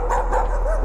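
A small dog barks and yips in the horror video game Layers of Fear, a short whimpering burst over a low, steady ambient drone.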